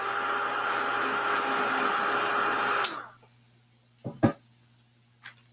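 A hair dryer blows steadily and loudly on wet paint for about three seconds, then cuts off, followed by a few faint clicks and handling knocks.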